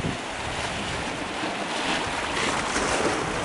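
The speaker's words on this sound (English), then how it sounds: "I want to get the drama of the waves" Ocean surf rolls and crashes on a shore in the British Virgin Islands, a steady loud wash of breaking water mixed with gusting wind noise on the microphone.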